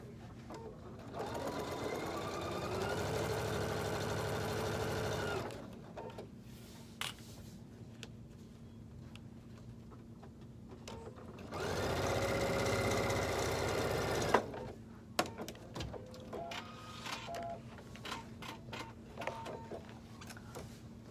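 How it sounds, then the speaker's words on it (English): A sewing machine back-stitches through a cork handbag in two steady runs of rapid mechanical whirring, each several seconds long, separated by quieter handling clicks and fabric shifting. "I'm gonna do a back stitch over that because that's where the strap's gonna be."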